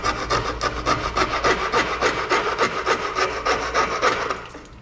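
Hand-coping a wood baseboard trim piece with a coping saw, with quick, close, rhythmic rasping strokes that run in a steady back-and-forth pattern before trailing off, and no talking.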